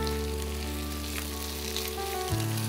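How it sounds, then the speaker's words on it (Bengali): Jackfruit with turmeric frying in a pan for a jackfruit-prawn stew, a loud, continuous close sizzle over a steady background hum that cuts out abruptly near the end, with no talking. "এইবার ভালো করে ভাজতে হবে।"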